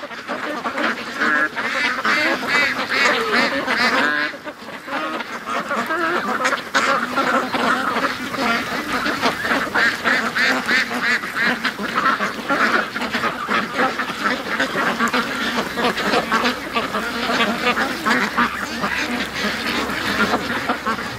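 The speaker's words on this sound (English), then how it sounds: "The ducks just got spooked, now they're coming back." A flock of domestic ducks quacks loudly and steadily in a yard, many overlapping calls forming a dense, continuous chorus close by, with no talking.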